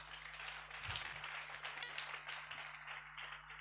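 Congregation clapping during a church service, a steady spread of hand claps at moderate level over a low continuous hum, with a few sharper taps standing out.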